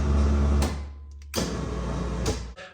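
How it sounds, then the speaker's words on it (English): A SuperATV Black Ops 4500 winch mounted on a 2022 Kawasaki Teryx runs with a loud electric whine, stops briefly, then runs again in the other direction before cutting off. "now that we verified that we have power and the winch is working in and out"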